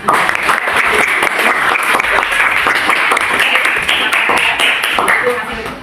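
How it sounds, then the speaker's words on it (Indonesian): Classroom applause from a group of students, steady dense clapping for about six seconds that fades slightly at the end. "Kasih tepuk tangan."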